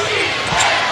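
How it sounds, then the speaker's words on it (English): Crowd noise in a basketball arena during a 1998 Chicago Bulls vs Toronto Raptors game, a dense, loud murmur of spectators with a commentator talking over it. "Crowd now starting to make a little noise"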